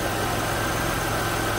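The engine of a 2000 Buick LeSabre runs at a steady idle, a constant close hum with no change in pitch or rhythm and no voices.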